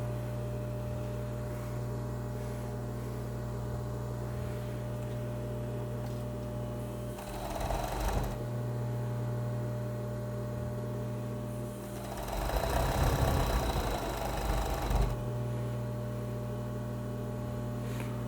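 An overlock sewing machine hums steadily as it stitches fabric, a low continuous drone broken by two louder, rougher bursts of faster sewing, with no voices.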